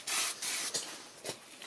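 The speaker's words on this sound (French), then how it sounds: "je vais prendre un peu de nettoyant frein que je vais mettre tout autour" Brake cleaner sprayed around the brake caliper piston while replacing the brake pads on a 2019 Fiat Panda: a few close, loud aerosol hisses in short bursts, with brief pauses between them.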